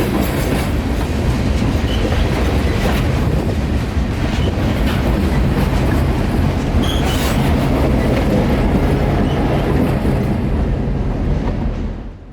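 A freight train backs slowly down the north leg of the Lakeland Junction wye, a loud, continuous roll of wheels and railcars with clacking and occasional squealing, close and steady, fading slightly at the end.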